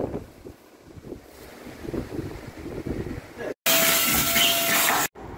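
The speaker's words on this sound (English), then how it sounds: "Gosh, it's so windy." Strong wind rumbles across the microphone in uneven gusts under talk, then a sudden loud, steady roar of wind noise cuts in for about a second and a half before dropping away.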